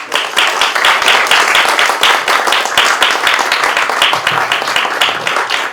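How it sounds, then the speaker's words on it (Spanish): A loud, dense round of applause for students at the presentation of a student research publishing project, many hands clapping close and continuously with no gaps. "un aplauso, enhorabuena para todos y todas"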